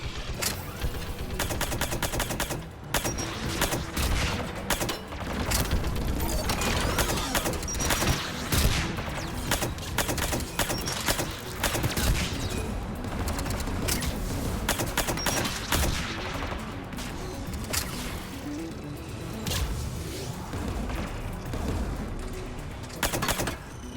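Sustained turret gunfire in the Mass Effect 3 Battle for Rannoch mission, a dense, loud barrage of rapid automatic shots and blasts that continues almost without pause.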